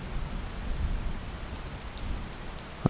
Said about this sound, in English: the rain slowly began to fade away. The tapping slowed